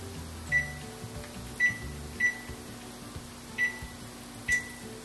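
Oven control panel beeping as the temperature is lowered to 350 in a home kitchen during brunch cooking: five short, sharp electronic beeps at uneven intervals, fairly close, over a low appliance hum.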